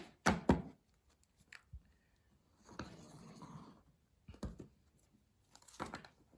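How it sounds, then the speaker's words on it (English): A Wildwood Tarot deck is shuffled by hand in short, soft riffling bursts separated by quiet pauses, faint and close with no talking. "I'm going to do a live shuffle here."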